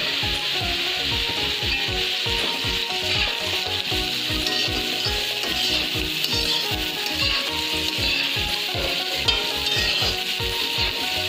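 Carrots join softened potatoes frying in a pan, a loud continuous sizzle with a regular rhythmic scraping of a spatula stirring the vegetables through the whole stretch.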